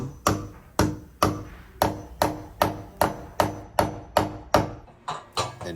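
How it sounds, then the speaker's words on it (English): A hammer lightly taps a wall anchor into brick about a dozen times in a steady rhythm, close and fairly quiet, each blow ringing briefly before the next. "grabbing the hammer real quick, and giving it a light tap"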